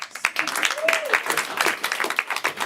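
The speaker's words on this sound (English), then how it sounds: "Clap for yourselves." An audience at a live stage show applauds steadily, a busy close wash of clapping with a voice speaking over it.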